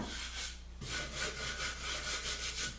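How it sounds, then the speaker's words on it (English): Hand sanding a wooden pub table stool, a loud, close rhythmic rasp of repeated back-and-forth strokes, steady and unbroken. "I'm gonna sand them like I said."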